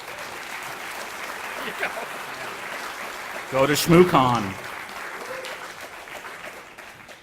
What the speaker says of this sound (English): I think we'll applaud again now.